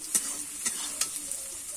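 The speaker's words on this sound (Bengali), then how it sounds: "আমার দেখো মশলাটা ভাজা হয়ে গেছে আমি মশলাটা তুলে নেব" Spices frying in a pan with a soft, steady sizzle, punctuated by three or four distinct stirring scrapes of a spoon.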